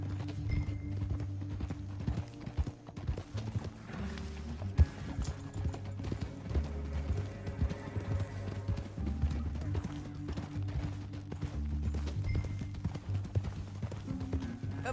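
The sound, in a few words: horse hooves clip-clopping in video game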